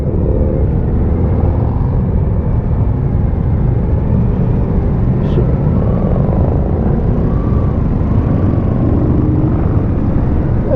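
A 2022 Suzuki V-Strom 1050XT adventure motorcycle pulls out of first gear, with a continuous loud engine rumble mixed with wind and road noise.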